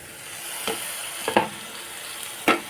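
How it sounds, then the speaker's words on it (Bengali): Tomatoes and spice powder sauté in a pan for a hilsa fish curry, giving a continuous soft sizzle broken by three sharp scraping stirs of a spoon. "টমেটো দিয়ে দেবো কারণ কষতে কষতে এটাও একটু গলা গলা হবে"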